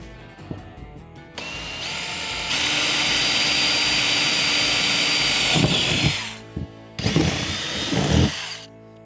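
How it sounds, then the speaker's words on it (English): A power drill bores bolt holes through mounting material while a diesel heater is installed on a boat; the tool whines loudly and steadily for several seconds, then stops and restarts in shorter bursts, with no talk. "start drilling our holes through here"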